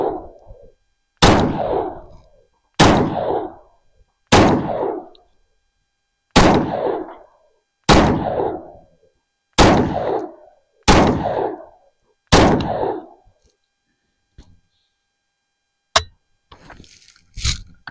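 An H&K SL6 rifle fires nine sharp, loud shots at a steady pace of about one every one and a half seconds, each crack trailing off into a brief echo before the next, followed by faint handling noise.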